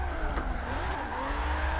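Tire squeal from a high-speed handbrake slide in a sim racing game, a sustained screeching whine over a low engine rumble, steady and moderately loud throughout.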